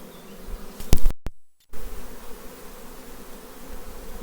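Honeybees buzz steadily around an open hive as they cluster during an inspection, a close, continuous drone broken briefly by a short knock and a moment of silence.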